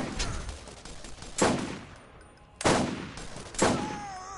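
Three separate sniper rifle shots in Borderlands 1, each a loud close crack that decays slowly, spaced about a second or more apart with quieter ambience between them.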